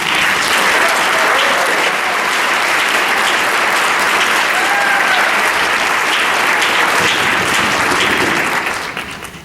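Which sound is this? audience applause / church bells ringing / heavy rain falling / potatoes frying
audience applause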